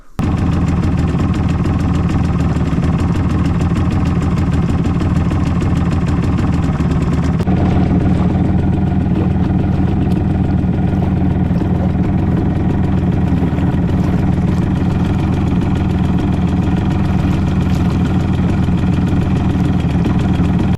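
A small Hangkai 6 hp outboard boat motor runs loud and steady nearby, a constant droning hum with a slight shift in tone partway through, no voices.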